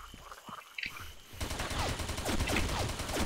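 Rapid bursts of video game gunfire, automatic weapons rattling in quick succession after a quieter start with a few isolated shots and sounds.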